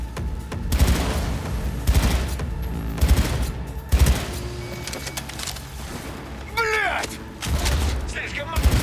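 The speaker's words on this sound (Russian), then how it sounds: "эта пушка по три патрона стреляет" Gunfire from a three-round burst weapon in the video game Cyberpunk 2077, loud repeated bursts and impacts over game music and effects, with a voice exclaiming briefly.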